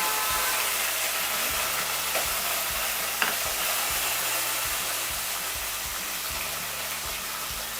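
Curry leaves and coriander leaves frying in hot oil, a steady close sizzle with bubbling, broken by brief scraping stirs and one sharp crackle, with no talk.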